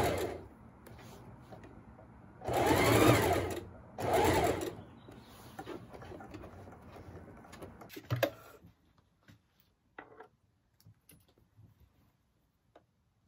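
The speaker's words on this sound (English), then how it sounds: "we're going to run this through a machine." A sewing machine stitches pleats on a fabric face mask in two loud close bursts, followed by quieter handling clicks and rustles as the run ends.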